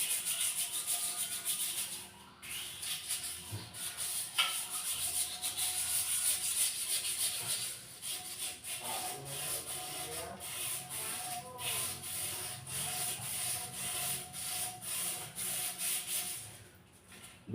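Sandpaper rubbing over wood to strip dark, yellowed stains from the crevices, a steady close scratchy scraping that keeps up in repeated strokes with short pauses and no talk.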